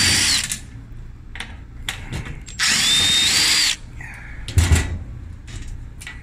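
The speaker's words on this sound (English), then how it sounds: "where's my drill now?" A power drill whirs in several short bursts, then runs steadily for about a second, with clanks and handling noises between, close up, during a GE washing machine repair.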